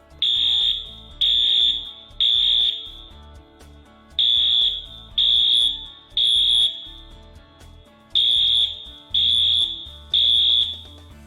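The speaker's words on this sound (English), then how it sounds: "Here's an emergency alarm." A loud electronic fire alarm blares in repeated bursts of about a second each, with short gaps between, sounding steadily throughout.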